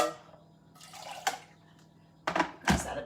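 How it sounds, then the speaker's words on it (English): Water is poured into an emptied coconut milk tin to rinse out the rest, in two short splashy bursts separated by a quiet pause, close and moderately loud. "just add a bit of water to that so I get all of that, no waste."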